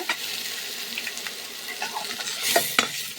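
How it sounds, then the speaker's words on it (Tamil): Chopped onions sautéing with salt in a pan for macaroni pasta: a steady, soft sizzle runs throughout, with a few sharper scrapes and clinks of stirring near the end. "நல்லா வதக்கிக்கலாங்க"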